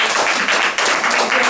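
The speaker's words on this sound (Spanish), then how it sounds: "Un aplauso a mi hijo." Loud, close applause at a Shabbat gathering for the speaker's son, dense overlapping clapping that pulses briefly and fills the short moment.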